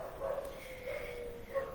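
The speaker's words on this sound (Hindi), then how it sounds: "बाहर कुत्ते भौंक रहे हैं गलियों में" Several dogs barking outside in the streets at night, far off and faint, a few scattered yips and barks over a steady thin whining tone.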